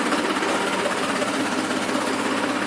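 A tractor engine runs steadily in a paddy field during rice sowing, a loud continuous rumble with a rhythmic mechanical clatter and no pause.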